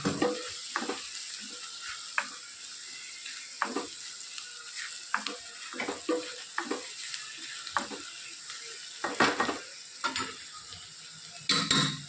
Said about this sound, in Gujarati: મસાલો આપણે સરસ શેકાઈ ગયો છે અને તેલ પણ સારું એવું છૂટું પડ્યું છે.